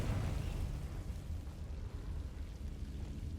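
A Confringo fire spell detonates in the Hogwarts Legacy video game, a dense low rumbling burst that starts loud and decays gradually into a hissing roar.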